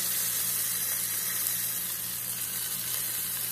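Rump roast sears in a hot pan with a steady, loud sizzle and crackle throughout, close by, with no talking.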